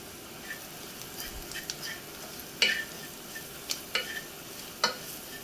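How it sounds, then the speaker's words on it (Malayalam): Dry-roasted lentils and spices are stirred in a pan for a garlic and fenugreek dish: a quiet low sizzle broken by several sharp, spaced scrapes and clicks of the spoon, with no talking. "ഇതെല്ലാം കൂടെ ഒന്ന് ഇളക്കി മിക്സ് ചെയ്തെടുക്കാം."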